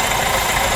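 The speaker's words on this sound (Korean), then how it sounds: "엔진 소음 때문에 문의를 주신 차량입니다." A diesel R engine idling with a suspected stretched timing chain, a steady close rumble with a dense rattling knock running through the short stretch, no voices.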